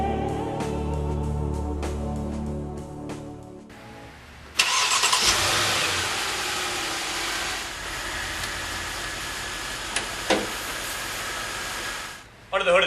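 A 4.7-liter V8 in a Mercedes-Benz GL450 all-wheel drive cranks and catches, then settles into a steady, loud, close idle for several seconds, with a brief blip near the end.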